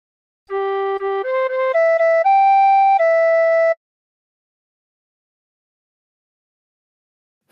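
A tin whistle plays a short phrase of La Cucaracha, five or six clear notes stepping upward in quick succession and ending on a longer held note, close and solo, followed by silence.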